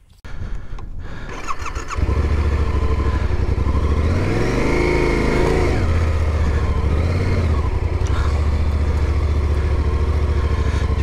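A motorcycle in the Atacama Desert, its tires slightly deflated for a steep sandy slope, starts up and then revs hard. The loud, close engine note rises and falls as it strains through the climb.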